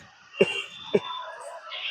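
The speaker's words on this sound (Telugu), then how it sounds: "మన నెక్స్ట్ ఎపిసోడ్ ఏంటి కపాలపాతి." Kapalabhati yoga breathing: two sharp, forceful exhalations about half a second apart, close and percussive, followed by a softer breathy hiss.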